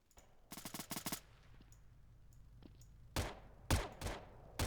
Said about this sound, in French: On entend les tirs, échange de tirs, échange de coups de feu ici même.